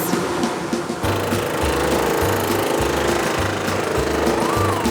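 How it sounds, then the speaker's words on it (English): A precision cutter saws through wooden jigsaw puzzle pieces with a loud, rapid, steady buzzing chatter that runs throughout and pulses in short repeated bursts as the wood is moved. "a precision cutter cuts through the wood"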